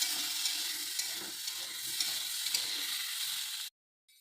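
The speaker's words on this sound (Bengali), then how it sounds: "এটাকে একটু নেড়ে ফেড়ে ভালো করে কষে নিতে হবে মশলাটা" A spice mix of turmeric, chilli powder and sugar stirred and frying in a pan, giving a soft continuous hiss with light scraping strokes that cuts off abruptly near the end.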